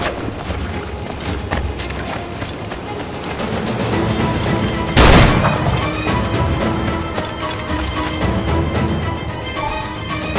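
Gunfire and chaotic combat in Assassin's Creed IV Black Flag Freedom Cry, with a dense run of sharp shots over a busy backdrop, one louder blast standing out midway.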